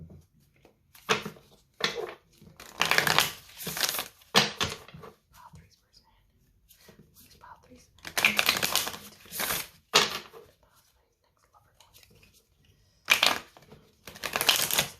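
Oracle cards being shuffled give bursts of dry riffling and flicking in several separate rounds, close by, with quiet gaps and faint speech between them.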